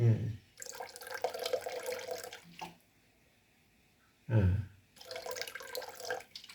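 Water runs and splashes into a blender holding beans, pouring in two bursts with a pause between, close and fairly loud, with a brief knock or clunk as the flow starts again.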